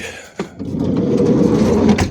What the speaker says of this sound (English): just shut that door.